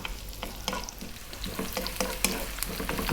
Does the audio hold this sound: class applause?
no